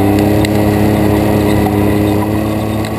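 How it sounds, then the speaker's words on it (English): A Can-Am Maverick side-by-side engine drones loudly and steadily at speed on a desert ride, a close, continuous roar with rumbling texture throughout. "get that CanAm back up to speed"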